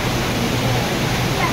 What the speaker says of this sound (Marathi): जबरदस्त आहे धबधबा.